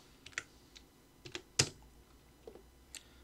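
Computer keyboard keys tapped while entering a hatch shortcut in CAD software, about seven sharp, close clicks in an uneven rhythm, one louder keystroke in the middle, over a quiet background.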